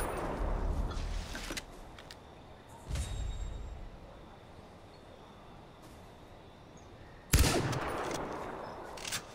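Gunfire in Far Cry 4, with sharp bursts of shots in short clusters separated by lulls and one loud close volley near the end, heard against a dull background hum.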